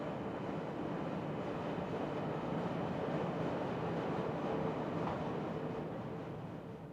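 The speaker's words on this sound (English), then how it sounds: "The high-speed trains on the Madrid-Seville line stop here." A steady low rumble and roar of a high-speed train on the Madrid-Seville line moving through a Madrid station, broad and continuous, fading slightly toward the end.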